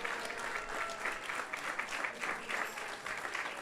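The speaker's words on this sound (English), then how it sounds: "So let's give him a big round of applause." An audience at a Krishna Katha class applauds in thanks, a steady moderate clapping with a gently pulsing rhythm, continuous throughout and fairly close.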